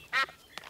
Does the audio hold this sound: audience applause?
no